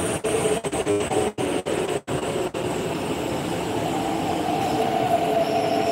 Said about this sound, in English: Another train, this is U009.